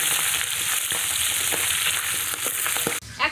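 Large tengra fish sizzle and spit in hot oil in a pan, a loud, continuous close-up hiss with small pops, then a brief shuffle as the frying quiets at the end.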